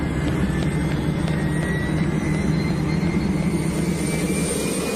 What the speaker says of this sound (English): NASA has a high-altitude jet specially designed to gather space dust.